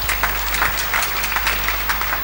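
Applause from a church congregation during a sermon, a dense, even patter of clapping over a low steady hum, fairly loud and continuous.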